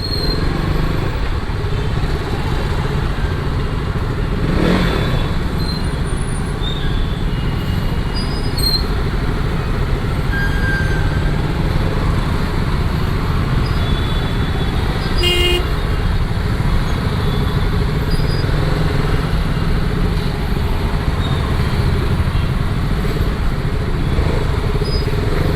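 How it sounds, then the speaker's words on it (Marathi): Heavy city traffic in Mumbai heard from a KTM RC 200 motorcycle: a steady, loud wash of engines and road rumble, with brief horn toots cutting through now and then. "आज तर खूपच ट्रॅफिक आहे या साईडला."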